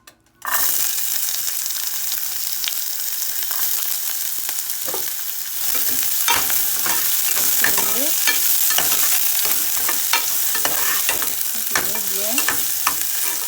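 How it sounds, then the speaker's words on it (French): Chopped onion dropped into a small hot pan with a little oil: a sudden loud sizzle bursts in after a brief silence, then continues steadily under repeated scraping strokes of a utensil stirring the pan, with no voices. "Dans une petite poêle chaude, je mets un peu d'huile, légèrement d'huile, s'il vous plaît. Voilà. Je mets l'oignon."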